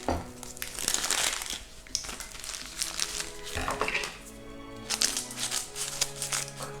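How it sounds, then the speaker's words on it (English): Plastic packaging being cut and pulled off sausage meat in a home kitchen, producing continuous close crinkling and crackling with a few clinks against a plate, and no talking. "Cut the packaging off the sausage meat and place it in the plate."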